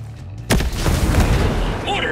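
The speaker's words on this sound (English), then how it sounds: "Mortars inbound!" In the video game Ghost Recon Breakpoint, a mortar round lands with a sudden loud boom and rolls into a heavy, sustained rumble of blast and debris, while a voice briefly speaks over the tail.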